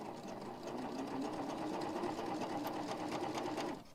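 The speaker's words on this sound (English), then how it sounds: "this is just fun to do on the serger, because this is when you sew, small strips together" Serger running steadily for about four seconds, stitching small fabric strips together for a wave-stitch quilt block; a close, continuous whirring hum that stops abruptly near the end.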